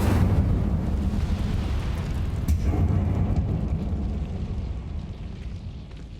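A fire spell cast in the game Hogwarts Legacy erupts in a loud, roaring burst of flame. It swells near the start and holds as a dense rumble before slowly fading over several seconds.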